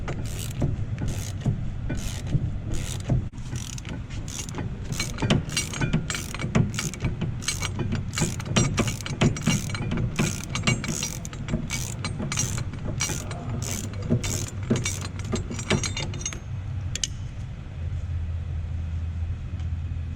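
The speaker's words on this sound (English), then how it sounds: "Once the bolt gets loose enough that you can undo it by hand, you can go ahead and do that." A bolt on the rear brake caliper of a 2015-2020 Ford Mustang GT350 being undone, giving a long, rapid, close ratcheting rattle of the wrench that stops near the end, leaving a low hum.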